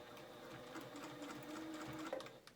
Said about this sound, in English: Just stitch it down.